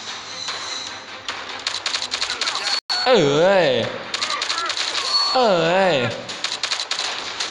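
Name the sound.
gunfire in video game Commando Fire Go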